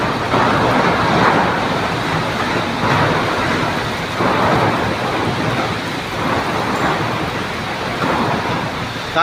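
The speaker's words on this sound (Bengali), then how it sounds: "প্রচণ্ড বৃষ্টি হচ্ছে, ঝড় হচ্ছে, ঝড়ের সঙ্গে বৃষ্টি হচ্ছে প্রচণ্ড পরিমাণে" Heavy rain pours down in a storm, a dense, continuous roar that swells and eases in repeated gusts of wind, with no voices.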